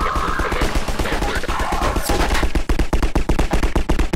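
Rapid automatic turret gunfire in the video game Half-Life 2, a loud, dense stream of sharp shots that turns into regular, evenly spaced bursts toward the end.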